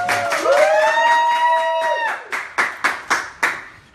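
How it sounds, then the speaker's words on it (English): After a drawn-out vocal whoop, one man claps for himself alone with a handful of crisp, evenly spaced claps close up. "Since I don't get applause in the room, I'll give myself another."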